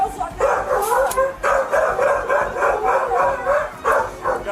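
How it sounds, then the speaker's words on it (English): Guard dogs bark in short repeated bursts close by, with voices talking over and between the barks. "Got some guard dogs in there."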